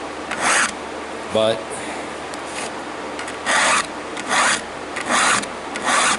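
A hand file rasps across chainsaw chain teeth in short, even strokes, about six close, loud passes with pauses between them and a brief voice in the gap.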